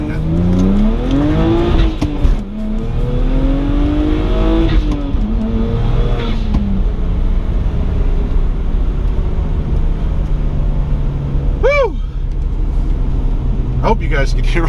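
BMW 135i engine and exhaust heard from inside while driving, with rising and falling revs across gear changes and a steady low drone, then a faint burble toward the end; a person talks over it.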